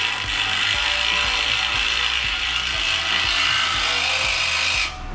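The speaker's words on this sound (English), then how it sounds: "He's gonna drill the holes now that he has the unit centered." A power drill bores anchor holes into a concrete floor to secure a vertical storing dock leveler, a continuous loud grinding whine with a rapid rhythmic hammering pulse underneath, cutting off just before the end.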